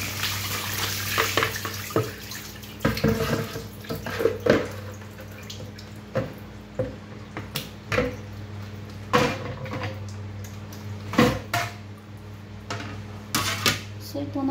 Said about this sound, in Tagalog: I-drain ko na po yung tubig niya.